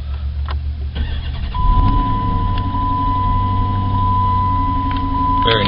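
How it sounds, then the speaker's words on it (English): A 2014 Dodge Challenger R/T Redline Edition engine cranks and fires at about one second, then settles into a loud, steady, rumbling idle close by, with a faint electronic tone running through it. "Press the brake and push the button to start."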